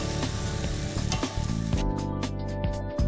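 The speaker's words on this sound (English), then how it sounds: "once the meat is browned, we just transfer it to a pan and start with the next batch of meat" Lamb pieces for a tagine browning in hot oil in a pan, a loud, close, continuous sizzle with stirring scrapes, no voices.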